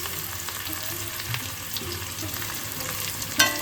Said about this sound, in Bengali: এবার আমরা বেরেস্তাটাকে ভেজে নিচ্ছি